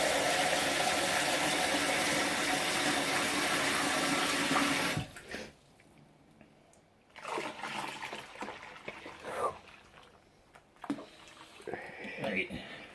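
Water gushes loudly into a brewing vessel filled to the 5-gallon mark while making a dark ale, a steady rush filling the first five seconds, then stopping abruptly, followed by quieter handling sounds and a voice.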